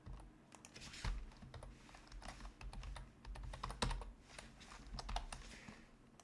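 Quiet, close clicking of keys on a computer keyboard, irregular typing with occasional harder keystrokes, alone without voices.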